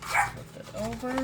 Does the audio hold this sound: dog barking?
yes